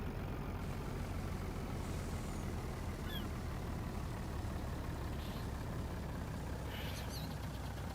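A dump truck engine idles in a steady, low rumble in a video game, sustained and unchanging, with a few faint higher chirps above it and no speech.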